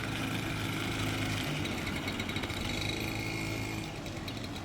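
A beginner rides a scooter, its small engine buzzing steadily and close throughout, with a slight drop in level near the end as the rider eases off.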